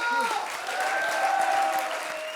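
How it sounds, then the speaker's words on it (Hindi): Applause for a child performer at a Hindi-language stage show, a steady wash of many hands clapping for a couple of seconds, with faint voices and tonal background sound underneath. "एक बार जोरदार तालियां इनके लिए"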